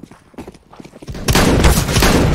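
Gunfire in Counter-Strike: Global Offensive, starting as scattered light shots and footsteps, then swelling into a loud, dense burst of rapid shooting that fills the last second.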